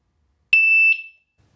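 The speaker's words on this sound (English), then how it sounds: "press and hold the coding button until the siren beeps" A single loud, piercing electronic beep from an indoor/outdoor strobe siren sounds alone in silence, holding for about half a second before fading quickly.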